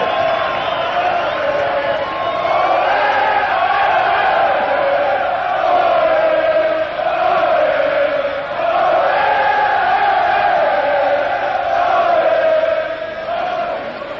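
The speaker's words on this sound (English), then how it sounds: "a fiercely patriotic crowd" A large Kenyan crowd at the 1997 Safari Sevens rugby tournament roars and cheers continuously, a loud, dense wall of voices that rises and falls in waves for the whole stretch.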